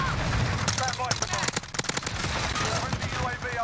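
Uzi submachine gun bursts in Modern Warfare, rapid automatic gunfire in quick volleys under excited talk from a player.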